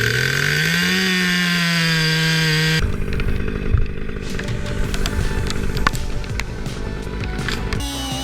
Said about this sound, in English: giant tree trunks are brought down with skill, experience, and extremely powerful chainsaws?